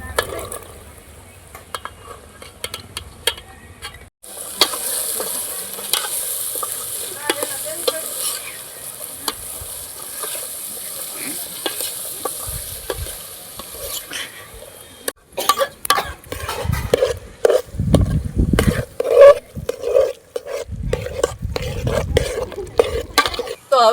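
Tindora (ivy gourd) dropped into hot gravy and stirred in a pan, a steady loud sizzle with clattering spoon-and-pot stirring that grows busier and louder toward the end.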